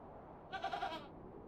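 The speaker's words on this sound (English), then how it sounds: "But anyway, back to the goat." A goat bleats in the adventure game The Excavation of Hob's Barrow, a single wavering call of about half a second standing out over a quiet, steady background with no talking.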